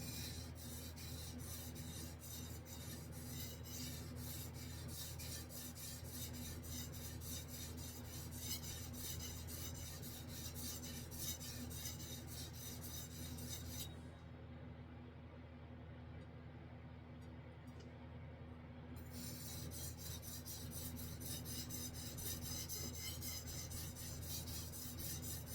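Japanese chef knife with decorative cladding ground on a whetstone, a steady continuous rasping scrape near and loud for the whole stretch, briefly dulling midway before resuming.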